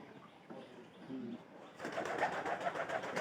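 Pigeons kept for sale, including young squabs, make soft low cooing in the first half, followed by a louder, busier stretch of bird noise and rustling close by.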